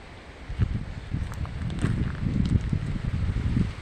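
Rainy-season wind gusts across an outdoor microphone, rumbling and buffeting in uneven swells with some rustling of leaves, close and fairly loud throughout.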